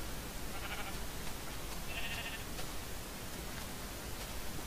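Sheep in Minecraft let out two faint, short bleats, one early and one in the middle, under steady hiss with no talking.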